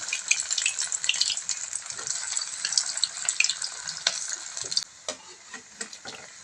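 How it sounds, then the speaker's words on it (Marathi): Dal batti frying in hot oil in a kadhai, a steady dense sizzle and bubbling that continues throughout, then thins into scattered pops near the end, with no talking. "यामध्ये आपण आता बट्ट्या तळून घेणार आहोत"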